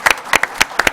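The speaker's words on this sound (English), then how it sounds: "If we can give her a round of applause." A small meeting audience claps briefly, a handful of sharp close hand claps in quick irregular succession lasting about a second.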